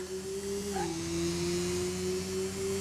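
Engine of a Porsche Carrera GT in the Car Mechanic Simulator 2018 game, heard as a thin, steady whine with a brief pitch dip and small rising chirp, sustained and even throughout, with no talk.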